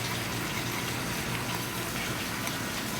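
Water is released gently over a filter in a lab to rinse solids and salts from brackish water samples, making a steady, close rushing gush throughout.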